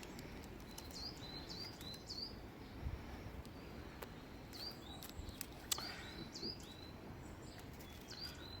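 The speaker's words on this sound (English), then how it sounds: "Wonderful bird song in the garden today" Birds sing and chirp in a garden outdoors, faint and distant with scattered high calls over a steady low background hum throughout.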